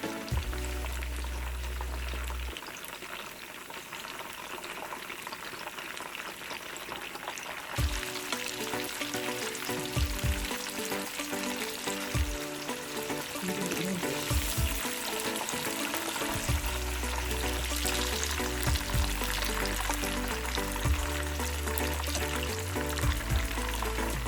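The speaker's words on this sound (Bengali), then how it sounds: "এভাবে সবগুলো চিজ স্টিক ভেজে নেব একইভাবে।" Potato cheese sticks fry in hot oil, a steady close crackle and sizzle that swells with bursts of bubbling, running alone without voices.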